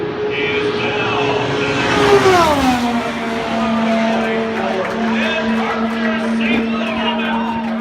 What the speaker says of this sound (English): Here comes Castroneves in the 3-car.